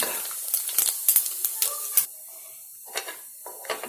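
Cumin seeds and spices are stirred in a hot pan for mango pickle, with a run of quick sizzling scrapes and hisses in the first two seconds, then softer intermittent sizzles.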